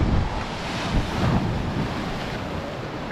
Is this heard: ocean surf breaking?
yes